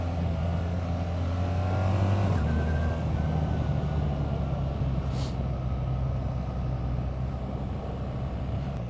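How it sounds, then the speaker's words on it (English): A 2024 BMW R 1300 GS Adventure motorcycle engine runs at a steady idle-to-low rumble with a brief rise in revs, a constant droning hum throughout with no talking. "Oh, it doesn't sound the best"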